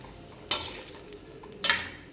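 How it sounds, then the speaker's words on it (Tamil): Two brief scraping stirs of a spoon through a pot of kurma with water added, with a soft simmering hiss underneath. "நல்லா கலக்கி விட்டுக்குங்க"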